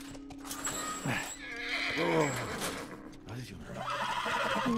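A horse in The Last of Us on PS4 neighs and whinnies several times with some hoof clops, while game characters talk over it.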